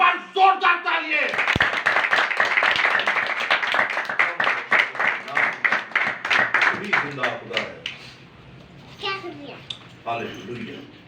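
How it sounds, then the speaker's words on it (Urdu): Energetic clapping from a church congregation at a Christian Bible study gathering that is also marking a child's birthday, dense and continuous for several seconds before thinning out, with children's voices mixed in. "ایک بار زوردار تالیاں"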